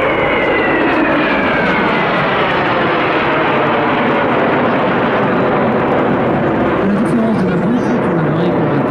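Aerobatic patrol jets break formation at an air show, a loud sustained roar with engine pitch sliding and shifting as the aircraft pass and separate overhead.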